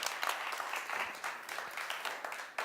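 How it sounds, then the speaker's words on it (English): A live show audience applauds a participant on stage, an even spread of many hands clapping at moderate loudness with a small burst near the end. "All right, give her a round of applause."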